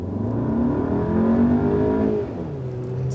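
A 2016 Skoda Superb L&K sedan with a 2.0 TSI 220 engine accelerating hard from about 20 in sport mode, a steady, rising engine drone heard close from inside the car, climbing in pitch without a gear shift.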